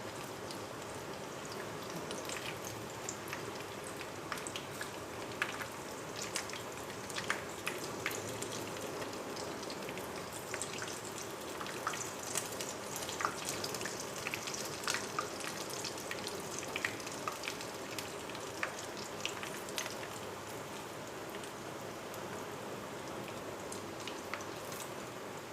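Chicken, potato and cheese kababs frying in a frying pan give a steady, soft sizzle with scattered crackles and pops throughout, and no voices.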